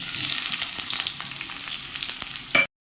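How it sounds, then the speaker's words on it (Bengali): Chopped onion and garlic fry in mustard oil in a karahi, making a loud continuous sizzle with scattered stirring clicks that stops abruptly near the end. "পেঁয়াজ রসুন ভালোভাবে একদম ভাজা ভাজা হয়ে যাবে"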